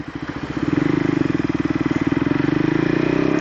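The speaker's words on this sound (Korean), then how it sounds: "그냥 탁 올리고 탁 놔주고 탁, 그러면 순식간에 기어 변속을 할 수 있게 됩니다." A KTM Duke 390 motorcycle engine putters rapidly close by, its rhythmic firing pulses rising in loudness after a brief softer start, then holding steady with a faint mechanical clatter.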